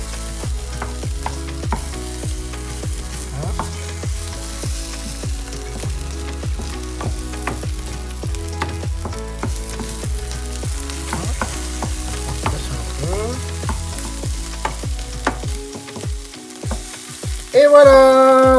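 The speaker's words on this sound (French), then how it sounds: "On va faire cuire les œufs." Eggs cooking in a frying pan for a potato and sorrel omelette, giving a steady, close sizzle and crackle that runs without pause for about eighteen seconds, with a rhythmic, music-like pattern alongside.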